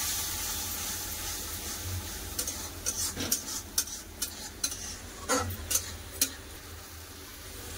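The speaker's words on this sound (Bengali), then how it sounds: "মশলাটা ভালো করে কষে নেব।" Spice paste of turmeric, cumin and coriander powder with a little water, stirred and fried in a pan for a fish curry, gives a steady low sizzle broken by irregular scraping clicks of the spatula against the pan.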